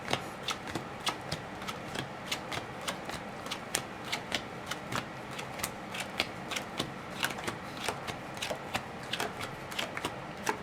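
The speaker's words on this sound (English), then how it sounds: "make sure that I always deal them out with the cards facing down" Playing cards dealt face down one after another during a magic trick, a quick regular run of crisp slaps and flicks, close and clear with no talk.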